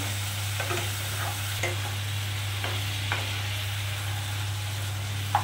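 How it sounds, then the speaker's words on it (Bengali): Spices frying in a pan with a little water added, giving a steady close sizzle with scattered soft scrapes of stirring and a few brief clicks, without any voices. "একটুখানি আমি জল দেবো, দিয়ে ভালো করে একটু কষবো"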